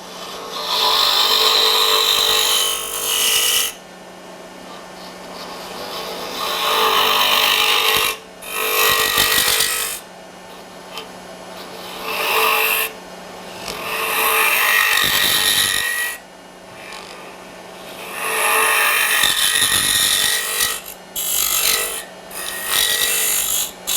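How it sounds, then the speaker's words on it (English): A wood lathe makes a scraping cut into end grain while a coffee scoop is being turned, giving loud rasping, scratchy bursts in several passes separated by short pauses, up close with no talking. "This is a scraping cut, but on end grain it does a very fine job."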